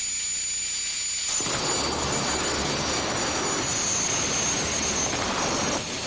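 Pratt & Whitney-powered jet dragsters launch from the Raceway Park starting line at a drag race: a roaring jet blast erupts after a quieter idle and holds loud and steady, broadband and close, with a faint whine running above.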